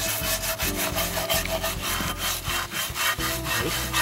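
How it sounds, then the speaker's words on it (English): Steady back-and-forth scrubbing on a rusty cast iron skillet being refurbished, a loud, continuous rhythmic rubbing with regular strokes and no talk. "we're gonna do a lot of rubbing. We're gonna clean all around the pot."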